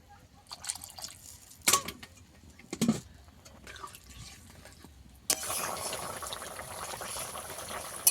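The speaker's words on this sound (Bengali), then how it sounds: "ফুটে গেছে" Egg and cauliflower curry comes to a boil in a pot: quiet drips and a few sharp clinks at first, then a steady, fairly loud bubbling hiss that fills the second half.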